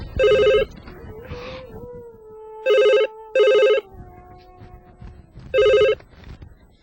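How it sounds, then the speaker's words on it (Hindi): A telephone rings in short bursts, four rings spaced apart, with a quiet voice murmuring between them. "वो देखो, फोन आ गया उसका।"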